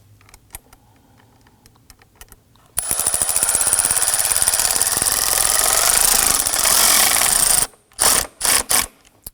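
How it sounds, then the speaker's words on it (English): A ratchet on a long extension tightens a hose clamp in the engine bay of a 2003-2014 Volvo XC90, giving a loud, steady rapid clicking that runs for about five seconds, then a few separate short bursts of ratcheting. "We're going to use our long extension to get down there and tighten up our hose clamp."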